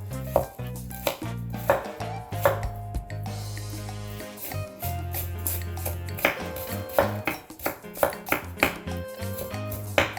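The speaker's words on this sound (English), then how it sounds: "Let's go ahead and start chopping it up and dicing it up." Rapid knife chops on a cutting board as a red onion is diced, sharp repeated taps in quick bursts over a low musical background.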